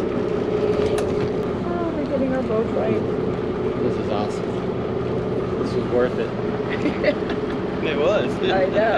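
A boat motor hums steadily beneath overlapping voices, with water and wind noise filling the background throughout, on a boat ride to Murano, Italy.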